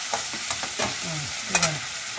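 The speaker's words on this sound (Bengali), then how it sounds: "শুকনো লঙ্কা দিয়ে মেথি শাক ভাজা হয়ে যাবে" Fenugreek leaves frying in a pan with dried red chilli, stirred so the spatula scrapes and clacks in short bursts over a steady, close sizzle, with no talking.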